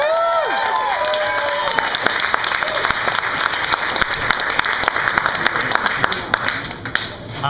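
Audience applause at a Litquake literary reading, a dense, steady wash of clapping from a crowd, loud and close, with brief cheering and a few voices at the start before the applause settles.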